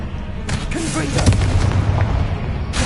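Confringo spells burst in Hogwarts Legacy on PS5: a couple of sharp booming blasts amid game effects, with a brief voice in between.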